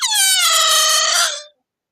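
A single loud, high-pitched squeaking tone held for about a second and a half, then stopping abruptly; it sounds like a voice imitating a squeak.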